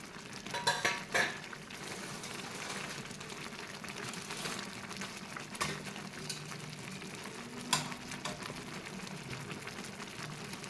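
Spoon scraping and clinking against a pan while vermicelli noodles are stirred as they cook, soft continuous stirring with a few sharper metallic knocks, close and fairly quiet.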